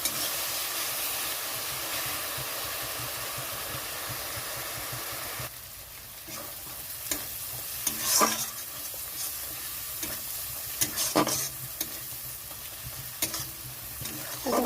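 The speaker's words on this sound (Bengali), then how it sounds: "সব মশলা দেওয়া হয়ে গেছে, মশলাটা ভালো মতো কষিয়ে নিতে হবে।" Spice masala with turmeric and Kashmiri chili frying in oil, a steady sizzle broken by repeated scraping stirs that grow more frequent in the second half, close and without voices.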